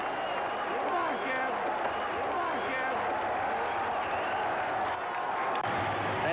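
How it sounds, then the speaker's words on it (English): Baseball crowd at Candlestick Park during the 1989 World Series, a dense, steady roar of cheering and clapping that stays fairly distant and unbroken throughout. "the crowd comes very much alive again as Kevin Mitchell comes to the plate"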